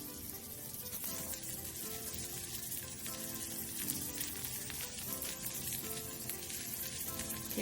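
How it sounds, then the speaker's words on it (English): Steady, crackling sizzle of vegetables frying in a pan over medium heat for an omelet, continuous and fairly close, with faint kitchen clatter. "you can see it sizzling"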